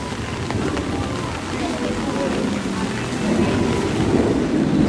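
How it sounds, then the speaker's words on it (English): Heavy rain pours down in a dense, steady roar at Dollywood theme park during Hurricane Delta, with a voice speaking faintly beneath it. "if you are here and it's raining like this"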